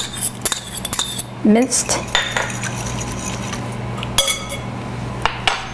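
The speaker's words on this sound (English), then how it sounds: "Starting out with 1 egg, put it in a bowl, whisk it up a little bit" An egg is whisked in a bowl with quick metal clinks and taps against the side, arriving in short bursts with pauses between them, while a person talks in between.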